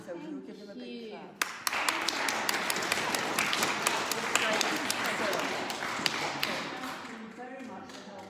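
A church congregation at St Peter's Church, Bromyard, breaks into sustained clapping after a sharp opening clap, steady and fairly close, with voices talking underneath.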